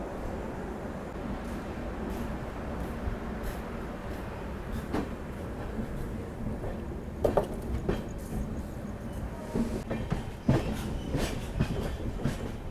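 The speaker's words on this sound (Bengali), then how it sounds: "আমার ট্রেন ছেড়ে দিল ভুবনেশ্বর থেকে" A night train leaving Bhubaneswar rolls along the rails with a steady low rumble and repeated clickety-clack wheel beats, a few sharper clanks standing out, heard from inside a nearly empty carriage.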